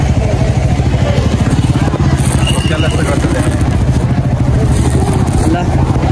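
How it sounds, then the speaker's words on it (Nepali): Motorbikes pulling out of a crowded parking area, a loud steady engine drone with rumbling low throb and some clatter, voices of a busy crowd mixed underneath. "ल अब यो सबै पार्किङको बाइकहरू जान्छ"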